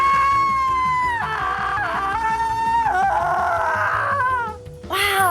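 A person screaming in a scream contest, a long, loud, shrill wail with wavering, sliding pitch that breaks off and restarts several times over a few seconds, filling the space close up.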